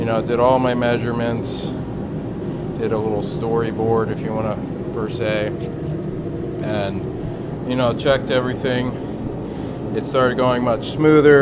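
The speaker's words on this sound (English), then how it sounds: "I have the torpedo heater going" A torpedo heater runs in a home garage during Mustang suspension and floor work, a steady broadband roar filling the background under nearly continuous close talking.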